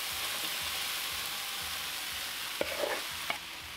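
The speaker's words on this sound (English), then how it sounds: "you wanna preheat your skillet on a medium-high heat. And then we're just gonna add all of the hash browns in." Hash browns sizzle in a preheated skillet over medium-high heat, a steady close-up frying hiss with a few brief scrapes and clicks near the end.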